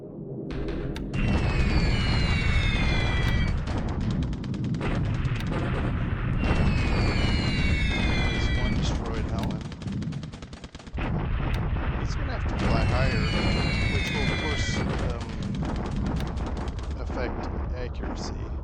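Anti-aircraft flak fires at Japanese Helen and Sally bombers in a Pacific war strategy game, with dense, loud rumbling volleys of booms and bursts that roll on almost without pause and come back in repeated waves.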